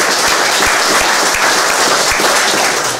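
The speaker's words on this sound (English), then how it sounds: "I want to give Dennis a round of applause" Steady, loud applause from a crowd, dense clapping continuing throughout without pause.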